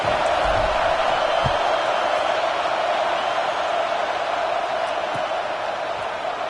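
A football stadium crowd at an LSU game makes a steady, dense murmur and roar that fills the space evenly throughout, with no distinct cheers standing out.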